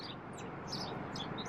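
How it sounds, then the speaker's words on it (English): Small birds chirping among garden flowers outdoors, faint high tweets scattered over a steady background hiss, fairly distant and soft. "there's birds hanging out in my flowers over there. Little baby birds."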